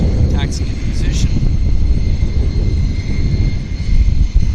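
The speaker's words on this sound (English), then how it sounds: "our WestJet to Vegas is taxiing into position" A WestJet airliner taxiing at Vancouver YVR airport, a steady distant engine rumble and whine with faint high tones, no one talking over it.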